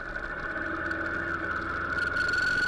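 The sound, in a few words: motorcycle engine while riding through Queens streets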